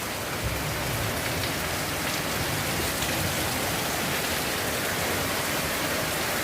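Steady, dense rain pours down and blows in without a break, a constant close hiss of drops hitting surfaces.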